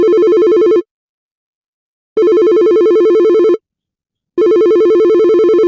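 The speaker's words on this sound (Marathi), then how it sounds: "कोणाचा फोन आला." A mobile phone ringtone rings loud and close for an incoming call, sounding in two-note bursts of about a second and a half separated by silences, with no other sound.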